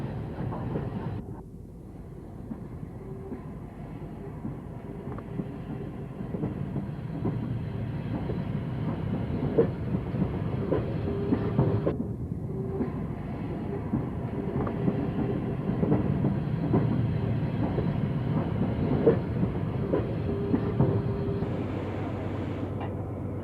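A British Rail Britannia class steam locomotive runs past with a steady rolling rumble and rhythmic clatter of wheels over rail joints, sustained and fairly close for the whole stretch.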